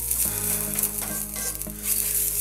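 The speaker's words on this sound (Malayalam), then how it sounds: "ഈ തേങ്ങയൊക്കെ മൂപ്പിക്കുന്ന സമയത്ത് നമ്മൾ കൈയെടുക്കാതെ തന്നെ ഇളക്കിക്കൊണ്ടിരിക്കുക." Grated coconut roasts in a pan for a Kerala vazhathada erissery, with a close, continuous dry sizzle and three or four sharp spoon scrapes as it is kept moving; no talking.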